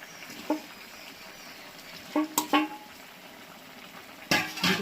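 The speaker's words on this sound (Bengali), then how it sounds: "নাড়াচাড়া করে ভালো করে একটু নাড়াচাড়া করে নিই" Egg curry being stirred in a pan, with a few sharp clinks and scrapes of a spoon against metal over a quiet, steady kitchen background, the strikes coming in small clusters.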